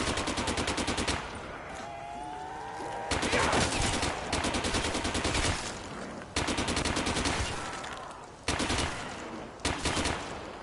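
Bursts of rapid M1919 machine gun fire in Call of Duty Zombies, several sustained volleys separated by short pauses, loud and close, with faint talk in the gaps.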